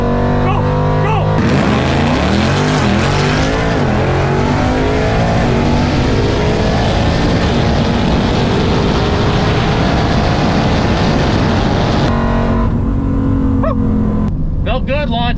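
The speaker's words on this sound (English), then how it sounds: "Felt good launching at 1800." A twin turbo Cadillac CTS-V launches down a drag strip, its engine roaring loud and close, climbing through rising gear pulls with brief shift breaks, then easing off near the end.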